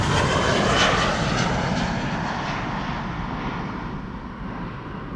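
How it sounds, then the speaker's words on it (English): A KLM Boeing 737-700 jet departs Amsterdam Schiphol Airport, its broad engine roar loud at first and then slowly fading as it climbs away. "This is a KLM 737-700 to Bergen."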